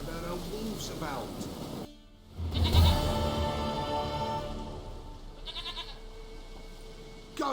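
A goat in The Witcher 3 bleats in short wavering calls, moderately close, amid game ambience, with a voice talking during the clip.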